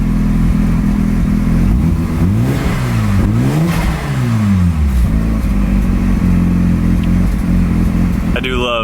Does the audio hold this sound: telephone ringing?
no